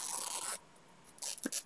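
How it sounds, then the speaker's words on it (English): Scissors sliding along fabric during an embroidery stitch-along, a soft broadband swish for about half a second, then a quiet pause before a few shorter rustling strokes close by. "So I'm just going to slide my scissors along"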